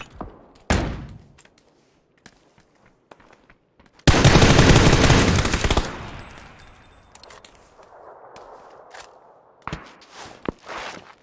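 Gunfire in PUBG coming from behind: a dense, loud burst of automatic shots lasting about two seconds, with scattered footsteps and thuds before it and quieter game noise after.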